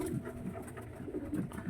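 A pet pigeon coos softly in repeated low, rolling phrases at close range, with faint background noise between calls.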